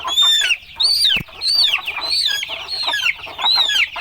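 Red roosters and black hens on a Thai farm clucking and calling loudly and repeatedly in close, overlapping bursts with brief pauses between them.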